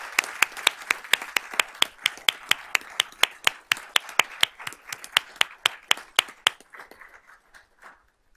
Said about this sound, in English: let's give all of these students a round of applause.